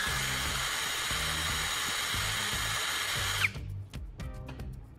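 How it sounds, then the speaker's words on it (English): A power drill whines steadily at close range, sharpening the end of a carbon rod to a point, then cuts off abruptly, leaving quieter rattling and handling noises. "I'm carefully sharpening one end of the carbon rod with the drill to create a fine pointed tip."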